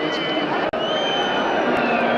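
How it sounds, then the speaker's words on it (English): Large, cheerful crowd of South Melbourne supporters at a 1990/91 National Soccer League match at Somers Street, a steady dense roar of many voices with loud broadband babble throughout and a brief drop partway. "Big crowd of happy South Melbourne supporters here at Summer Street"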